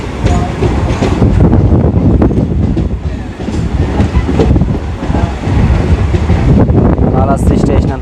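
A mostly empty passenger train on the Vedayapalem to Renigunta route rumbles along near Kalahasti with a steady, loud, broadband roar and faint rhythmic clatter, continuous throughout with brief dips, occasional voices mixed in.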